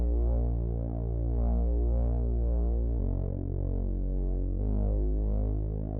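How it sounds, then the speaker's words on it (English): A deep, smooth synth bass from a VST plays a simple beat line of long sustained notes with two pitch shifts, up close and alone, warm and humming. "I put this bass."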